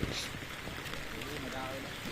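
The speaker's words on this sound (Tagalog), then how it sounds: "Kahit sobrang lakas ng ulan" Heavy rain pours down steadily during a sudden downpour, a dense continuous hiss close to the listener, with speech-like sounds mixed into the wash.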